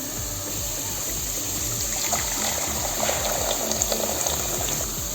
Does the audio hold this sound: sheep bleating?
no